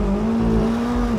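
McLaren 570S Spider engine revving loud and close, a steady strong exhaust drone held briefly under acceleration.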